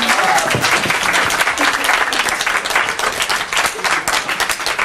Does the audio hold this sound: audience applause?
yes